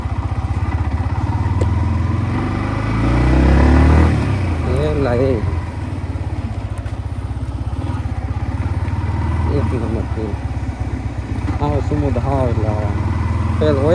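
A motorcycle engine idles steadily throughout with a brief rev, while someone talks over the rumble.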